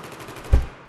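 A single M1014 shotgun blast in a shooting game, one sharp, loud boom that decays quickly, alone with no talk.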